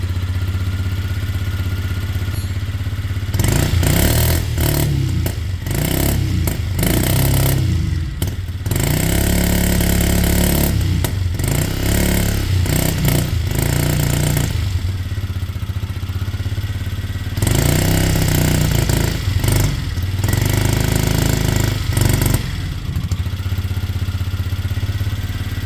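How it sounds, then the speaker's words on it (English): A Kymco Zing 125cc scooter engine with the choke on idles roughly, then revs in repeated uneven bursts that sputter and bog down, loud and close, with no talking. "So it's not enjoying revving at the moment."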